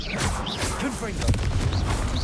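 Confringo fire spell blast cast in the video game Hogwarts Legacy, a dense whooshing burst amid continuous combat noise and spell effects, with a voice calling out incantations.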